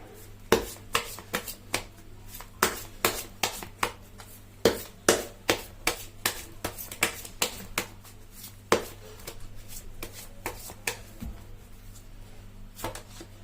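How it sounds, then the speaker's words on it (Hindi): Tarot cards being shuffled by hand, a quick series of soft crisp riffles and taps in steady rhythm, close and fairly quiet with a faint background hum. "लेती हूँ कार्ड की शफलिंग"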